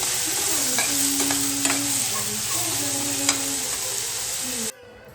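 Tomato stirred and fried in a hot pan, a steady sizzle with scraping spatula strokes and faint tonal hums, stopping abruptly near the end.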